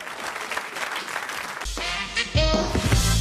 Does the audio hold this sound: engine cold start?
no